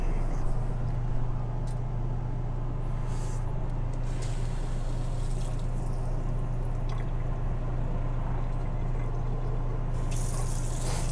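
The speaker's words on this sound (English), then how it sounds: "we'll fire up the water pump and just make sure we can purge water from the tank into the lines" An RV water pump runs steadily, pushing water from the tank into the lines: a constant low hum with a light trickle and a few faint splashes and drips on top.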